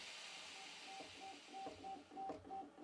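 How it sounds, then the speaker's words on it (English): A Prusa MK4 3D printer running its first-start self-tests and calibration, with a quiet, steady whirr broken by repeated short high-pitched motor tones and faint clicks, up close and alone. "After the printer is turned on for the first time, it performs various tests to verify the correct functioning of all components and to"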